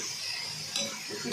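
A spoon stirs val bean pods cooked with plenty of coriander in a pan over high heat, giving a brief soft scraping and faint sizzle with a light clink partway through.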